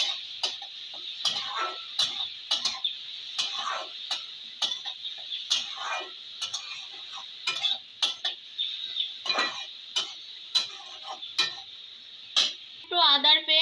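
Onions with a pinch of salt stirred in a pan, giving a run of quick scraping clinks and taps at a steady, close rhythm over a constant high hiss, with a short fluttering sound near the end.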